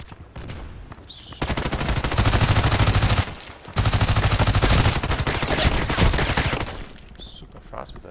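Rapid automatic fire from a PDR-C SMG in the Contract Wars shooter on the Bay 5 map, two long sustained loud bursts separated by a short pause, with quieter game ambience before and after.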